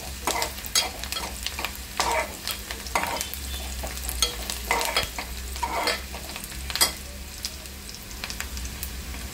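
Onion frying for a Maharashtrian val (field bean) bhaji, with a spoon stirring it around the pan in repeated scraping strokes over a steady, close sizzle; no voices.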